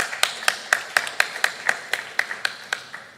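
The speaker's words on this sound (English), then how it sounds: "please give him the applause" A handful of people at an academic conference clap in a slow, sparse, steady rhythm, about a dozen distinct claps spaced evenly, moderately close and modest in volume.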